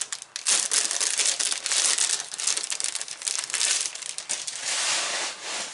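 Paper or plastic wrapping being crinkled, crushed and torn open on a package with a ribbon, a continuous close, loud rustling with sharp crackles throughout and no talking.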